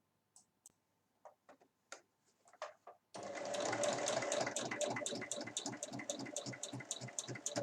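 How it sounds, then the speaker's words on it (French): A sewing machine stitches a seam on a fabric basket with two handles, running in a steady, fast mechanical rattle after a few quiet clicks and taps of handling beforehand. "on coud à 5 mm à l'intérieur donc de la couture et on fait pareil donc pour l'intérieur du panier"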